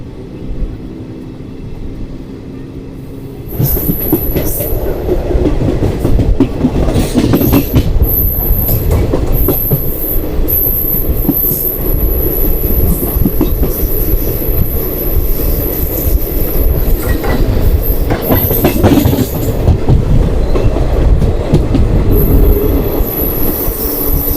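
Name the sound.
Ranikhet Express passenger train running on rails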